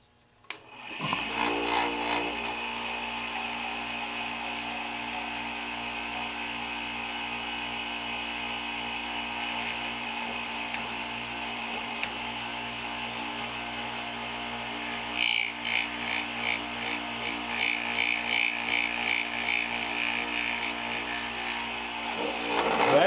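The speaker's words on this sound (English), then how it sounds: "and start the grinder." A Foley Belsaw #399 chain saw sharpener grinder starts up with a click and spins up to a steady, loud whine, then gives rhythmic grinding bursts as it meets the chain teeth.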